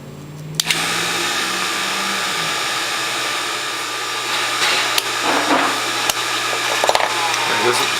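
A Norwalk juicer runs with a steady motor hum and whine while its piston travels up and down, a few clicks and knocks rising over the continuous drone.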